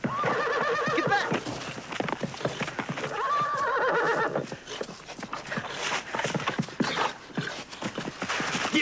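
Horse neighing loudly and repeatedly amid a scuffle, with harmonic whinnies near the start and again mid-clip, hoof clatter and shouted voices around them in an outdoor Western setting.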